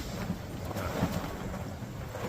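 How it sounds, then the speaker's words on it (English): Strong Arizona wind at about 60 mph buffets the microphone outdoors, a steady roaring rush with gusty surges and no voices. "we've got 60 mile an hour wind"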